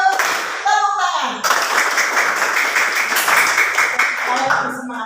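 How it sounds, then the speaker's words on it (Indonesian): A class of secondary-school pupils in an Indonesian-language lesson claps a rhythmic routine. Grouped claps follow a chanted count, then build into loud sustained clapping from the whole room, with a teacher's voice and pupils' voices over and between the claps. "Tepuk 1, tepuk 1, tepuk 2, tepuk 2, tepuk 1, tepuk tangan."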